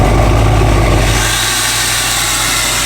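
A diesel truck engine idles while warming up, a loud steady rumble close by that starts with a rougher throb and settles into an even drone.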